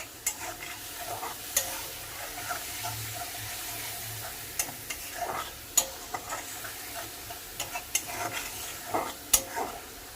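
Masala spices fry over low gas in a pan for a pointed gourd and prawn dish, a steady soft sizzle broken by repeated scraping clicks of a stirring spoon, close and with no speech.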